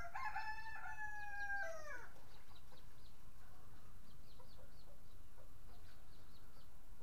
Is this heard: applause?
no